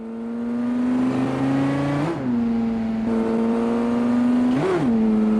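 A hypercar engine in a racing video game holds a loud, steady drone, briefly dipping and surging twice as it drops down to fifth gear, then settling back into an even hum.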